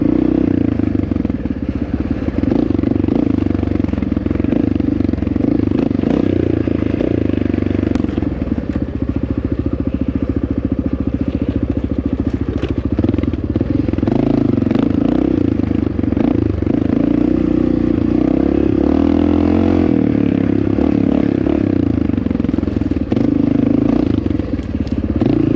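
A Honda XR650R dirt bike rides along a trail, its engine droning steadily and loudly up close for the whole stretch, with small shifts in pitch and occasional clatter from the terrain.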